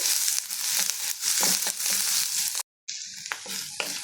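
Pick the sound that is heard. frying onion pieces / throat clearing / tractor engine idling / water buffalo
frying onion pieces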